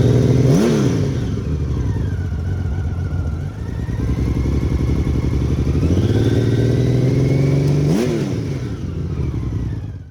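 Honda Valkyrie flat-six motorcycle fitted with aftermarket mufflers, revving loudly and close, its smooth exhaust note rising and falling in sweeping throttle blips, with two sharp peaks near the start and end.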